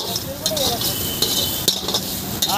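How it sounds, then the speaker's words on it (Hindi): Capsicum and vegetables stir-fried for veg Hakka noodles, with a metal utensil clinking and scraping against the pan in quick, irregular strokes over a soft sizzle. "भाई ने शिमला मिर्च डाल दिया और इसको अच्छी तरह से फ्राई किया जा रहा है।"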